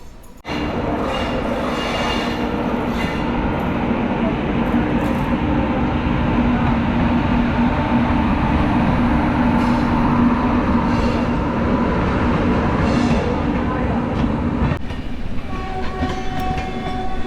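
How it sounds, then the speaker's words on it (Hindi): Paschim Express bound for Mumbai rushes past very close while a local train from Gurugram sits at a Delhi crossing, a loud continuous roar of wheels and carriages with clattering rail joints that ends abruptly. "कितनी पास से गई है वो ट्रेन।"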